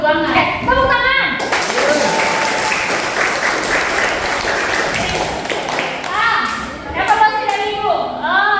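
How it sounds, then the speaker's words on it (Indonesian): A classroom audience bursts into applause, a loud, dense clapping that swells between stretches of talk at the start and end. "Tepuk tangan."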